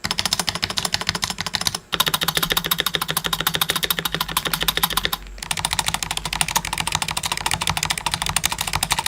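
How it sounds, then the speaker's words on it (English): Fast, steady typing on a mechanical keyboard, close and loud, a dense stream of clacking keystrokes broken by two brief pauses, with no talking. "would you rather have your keyboard sound like this?"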